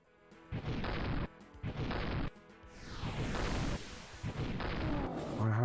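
Rockets blasting in the FreeDoom shooter: several loud, booming explosions in quick succession, each a broad crash with a short rumbling tail, and a longer rolling blast in the middle.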